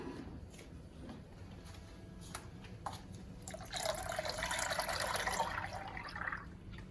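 Whole milk being poured into a pot, a faint close trickle that swells into a steadier liquid pour partway through, heard alone without talk.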